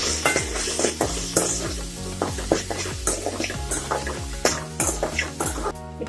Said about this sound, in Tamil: தக்காளி இதெல்லாம் நல்லா வதக்கிக்கணும்.